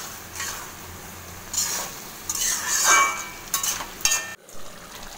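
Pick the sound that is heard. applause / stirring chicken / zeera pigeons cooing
stirring chicken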